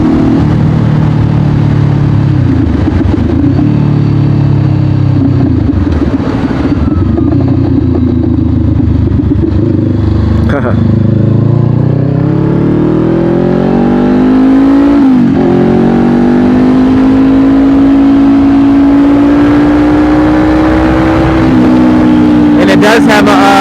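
A 2020 Honda CBR500R motorcycle engine drones loudly while riding, climbing and settling through the revs with shifts along the way, under heavy wind buffeting and a rider talking throughout.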